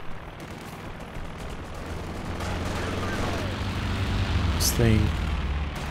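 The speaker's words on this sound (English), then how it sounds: "we're going to be seeing the Stuka strafing run coming in here" A Stuka dive bomber's strafing run in Company of Heroes 2 builds into a rumbling roar of gunfire and impacts, rising to a loud burst near the end, with someone talking over it.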